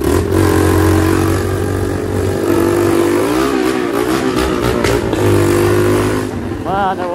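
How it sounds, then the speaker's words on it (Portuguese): A motorcycle engine idles and revs repeatedly, its throaty exhaust rising and falling up close, with a voice briefly audible near the end. "Mano, eu amo esse escapamento."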